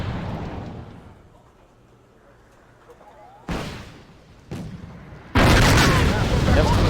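Tank main guns firing in the video game Wargame: Red Dragon, three sharp, loud booms at uneven intervals, the last leaving a sustained roar, following a quieter stretch of low rumble.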